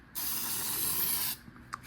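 Steady hiss of Bittydesign liquid mask sprayed from a can onto an RC car body, one continuous burst of about a second, close and fairly loud, ending in a couple of short sputtering puffs.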